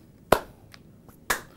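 Two sharp, separate hand claps about a second apart, close and crisp with quick decay, alone in a quiet room.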